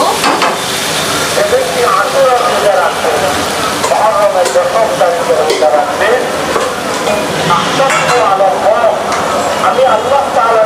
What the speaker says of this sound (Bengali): আমি এখন এখানে চিকেনগুলো দিয়ে দিব।